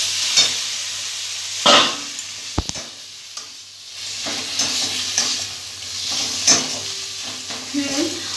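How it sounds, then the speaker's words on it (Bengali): Tomatoes cooking in a covered pan for a vegetarian mung dal dish bubble and sizzle softly as they are stirred, with close scrapes, a sharp clack of utensil against pan, and intermittent hissing bursts. "দেখে নিয়ে একটু নাড়া দিয়ে দিচ্ছি"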